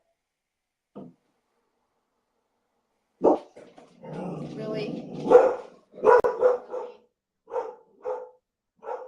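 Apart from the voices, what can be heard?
dogs barking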